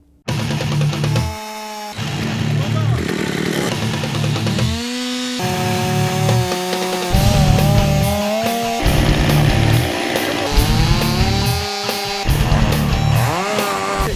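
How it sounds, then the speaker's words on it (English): A chainsaw cuts through timber at close range during deputies' storm-season training. The engine revs loud and sustained, dropping briefly between cuts, with the pitch bending as the chain bites into the wood. "These deputies got hands-on lessons in how to use chainsaws."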